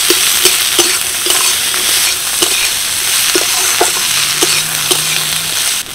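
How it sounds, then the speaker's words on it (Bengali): Chopped onion, garlic cloves, and dried and green chillies fry in a wok with a loud, steady sizzle, close up, punctuated by regular light clinks of a spatula stirring. "এবার এগুলোকে হালকা করে ভেজে নেব।"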